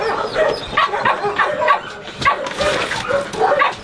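A frightened female dog at an animal shelter gives repeated high yips and whimpering barks in quick, uneven bursts, close by, with faint voices in the background.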